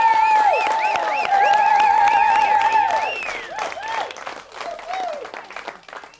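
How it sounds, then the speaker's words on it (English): Wedding guests applauding the couple at the top table, a burst of clapping and cheering with high whistles and whoops layered over it, fading into scattered claps and murmuring voices. "Give them a quick round of applause now."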